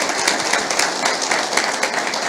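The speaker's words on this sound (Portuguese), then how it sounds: "Queria até uma salva de palmas para o pessoal" Brief applause from an audience at a football coaching talk honoring youth coaches, a short burst of dense, even clapping across the room lasting a couple of seconds.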